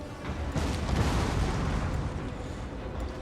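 Artillery bombardment in Rome Total War 2: a dense, continuous rumble of overlapping distant explosions and booms rolls on without pause, with no talking.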